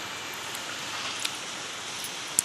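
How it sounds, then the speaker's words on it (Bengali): A soft, even hiss of rain falling, with a few sharper drips near the end. "এত বৃষ্টি হচ্ছে দেখো বন্ধুরা"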